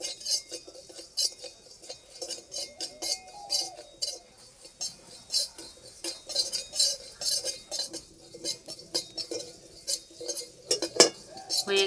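Whole cumin and carom seeds are dry-roasted in a wok, with a spoon repeatedly scraping and clinking against the metal in irregular bursts, close by, over a quiet background with occasional faint voices.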